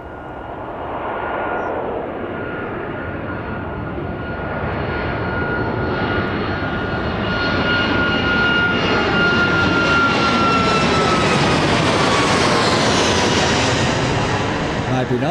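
An airliner passing overhead at Birmingham Airport, a loud, steady broadband jet roar with a whining tone that swells and holds strong as it goes by, with no other sound on top.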